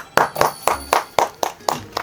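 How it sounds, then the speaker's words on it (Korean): Applause from a small group, about eight sharp, evenly spaced claps in quick succession, close and loud. "와, 박수."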